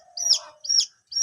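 A baby chicken chick chirps three times in quick succession, close and clear, each a short high peeping call.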